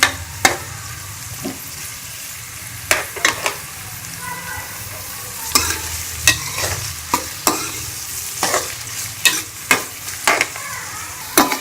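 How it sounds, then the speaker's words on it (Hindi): Onions frying in oil in a pan for a dhaba-style egg curry, a low sizzle broken by regular sharp scraping and clanking stirs of a spatula against the pan, close and fairly loud. "इसके अंदर प्याज को डाल के हम इसको लाइट ब्राउन कर लेंगे।"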